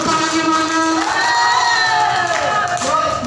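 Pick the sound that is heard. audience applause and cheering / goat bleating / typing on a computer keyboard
audience applause and cheering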